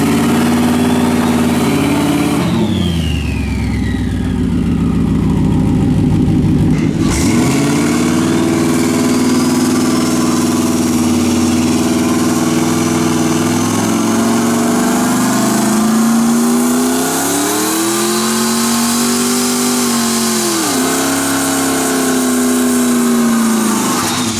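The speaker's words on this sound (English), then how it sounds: "So yeah, so it finally makes turbo noises." A turbocharged Ford Crown Victoria's engine drones steadily and loudly, revving up and down with a rising whistle of turbo spool across the span.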